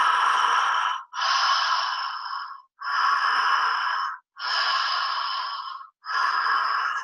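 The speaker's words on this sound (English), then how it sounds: "that's a conscious, continuous breathing technique with no pause between the inhale or the exhale" Open-mouthed breathing runs in a continuous cycle of inhales and exhales with barely any pause between them, about four and a half breaths, close and loud, with no speech.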